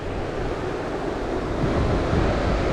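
Wind blows outdoors by a Downeast Maine brook during fly fishing for brook trout and landlocked salmon, a steady loud rushing roar with buffeting across the microphone and no talk.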